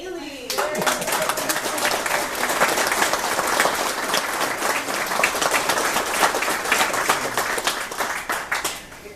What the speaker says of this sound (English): round of applause for Haley.